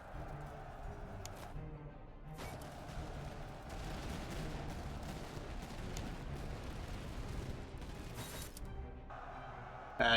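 Battle noise in the strategy game Cossacks, with dense overlapping bursts of gunfire and explosions, including grenade blasts, rumbling continuously at moderate loudness throughout.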